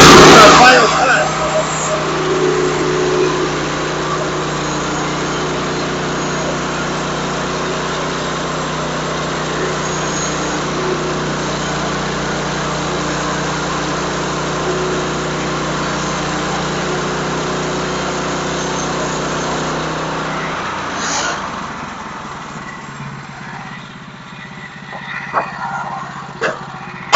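A small backwoods hobby sawmill engine runs steadily and loudly through a two-inch final cut, a constant droning hum that holds for about twenty seconds before the engine noise drops away into quieter ambient sounds and a few faint clicks.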